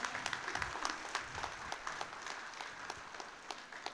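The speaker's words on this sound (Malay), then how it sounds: "satu tepukan gemuruh untuk Cik Yasrizan dan Tuan Pengarah" Applause from the audience at a formal tribute ceremony, a steady wash of clapping holding at even strength for the full stretch, with individual claps popping out now and then and no voices over it.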